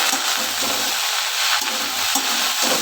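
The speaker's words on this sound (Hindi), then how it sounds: "अब इनको करते हैं हम मिक्स।" Ladyfinger (bhindi) with red chilli powder and spices being stirred in a hot pan, with a steady sizzle of frying running throughout and spatula scrapes and stirring strokes coming in uneven bursts, with no voice heard.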